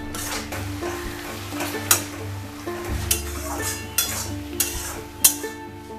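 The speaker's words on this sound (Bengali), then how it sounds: "দেখো জল নেমে অলরেডি গুড়টা গলতেও শুরু করেছে।" Jaggery melts in a pan for chalta chutney, giving off a steady close sizzle and bubbling, with a spoon stirring and occasional clinks against the pan; no voices.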